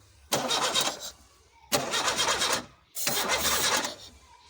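A car engine, suspected of blowing white smoke from a possible head gasket fault, cranks in three separate loud, close attempts of about a second each, with short pauses between them.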